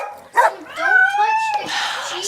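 Several dogs bark, yip and whine inside a busy house, close and loud, with high, yelping calls layered under a person talking.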